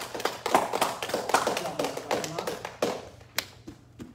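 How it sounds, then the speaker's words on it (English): A class clapping for a student, a short burst of quick overlapping claps and taps that thins out after a few seconds, with voices talking underneath. "Everyone clap for Caden."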